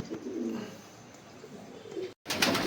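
Pigeons from a breeder's flock coo close by in a low, steady, overlapping murmur, with a brief break near the end followed by a louder burst of cooing and rustling.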